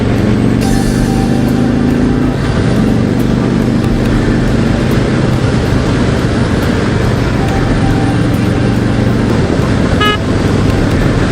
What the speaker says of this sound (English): Well, the horn works.